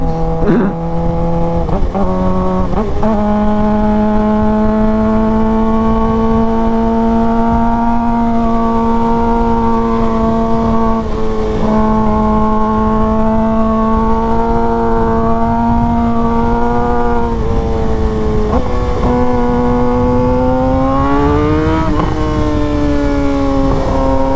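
A Suzuki GSXR motorcycle with an aftermarket exhaust drones steadily at a held engine speed, a loud, close, sustained tone with brief dips and rises as the throttle shifts, no talk over it.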